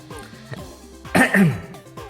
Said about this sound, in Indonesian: saya tuh batuk tadi